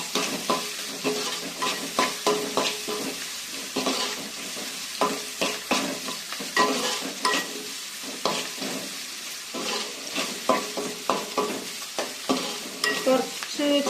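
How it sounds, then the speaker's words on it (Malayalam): Small shallots sautéing with salt in a pan for a chicken curry, a steady close sizzle broken by frequent scraping stirs of a spatula, with no voices. "കുറച്ച് ചെറിയുള്ളി ചെറുതായിട്ട് വണങ്ങിയിട്ടുണ്ട്."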